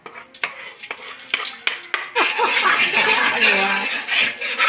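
Food stirred in a giant frying pan, with scraping and clattering strokes at first, then a steady sizzle of frying beneath a voice that speaks now and then.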